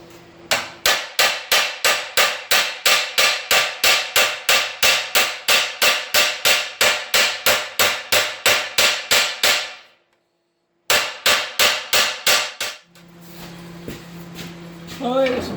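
Hammer and dolly flattening sheet metal in a rust repair: about two dozen sharp, evenly spaced metallic strikes close up, a brief silence, a few more blows, then softer handling noise.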